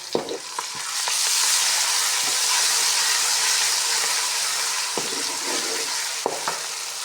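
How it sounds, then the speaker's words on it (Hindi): Ginger, garlic and green chili paste fries in a pan for a spiced bottle-gourd (lauki) sabzi, giving a loud, steady sizzle that holds nearly constant, with a few brief spoon taps and scrapes as it is stirred. "तो इसको भी अच्छी तरह भूनूँगी 2 मिनट, ताकि इसका जो है कच्चापन जो है सही हो।"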